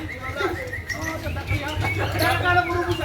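Murai (shama) songbird singing at a bird song contest, with chirps and warbling phrases under steady crowd chatter and nearby talk.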